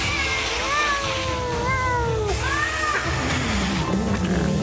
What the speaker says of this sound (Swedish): Håll ner med den där kattan nu.